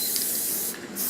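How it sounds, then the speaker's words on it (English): Adhesive sprayed from an aerosol can onto a piece of tube while fitting a band saw tire, a close continuous hiss that dips briefly near the end. "I'm gonna spray some adhesive on here."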